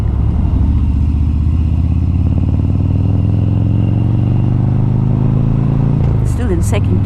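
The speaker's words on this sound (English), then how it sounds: "This bike pulls away really well in that situation in second gear." A Harley Davidson motorcycle accelerates in second gear on a hilly road from Cairns toward Atherton, Australia. The loud, steady engine drone rises gradually in pitch under heavy wind rush.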